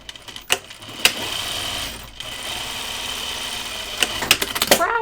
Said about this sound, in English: I'm going to sew the cuff in a circle